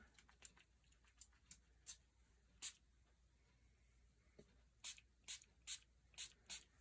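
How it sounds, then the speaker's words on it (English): A Stampin' Spritzer gives a handful of quick, soft spray hisses onto a rubber craft stamp, some single and some in short clusters, with quiet gaps between them. "give my stamp a little bit of a spray"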